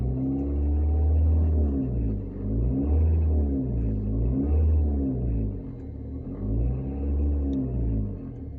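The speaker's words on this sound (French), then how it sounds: "quand j'accélère, ça fait un bruit bizarre" A 2004 Renault Megane 2 with a 1.9 dCi diesel engine revs up and settles in repeated cycles, each rise carrying an odd irregular rumbling noise, loud and close with no talking.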